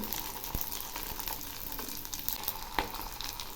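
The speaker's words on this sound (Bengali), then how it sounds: "এবার আমি লবণ দিয়ে মেখে রাখা চালটা ভেজে নিচ্ছি" Salted rice sizzles steadily as it fries in a pan for kurmure chanachur, a constant close crackle with a few sharper pops and stirring clicks.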